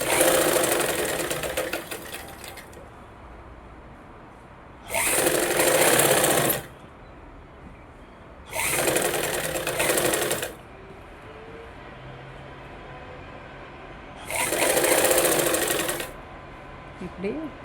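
Sewing machine stitching a quarter-inch fold on a blouse lining, heard in four close bursts of rapid whirring, each a second or two long, with quieter gaps between them.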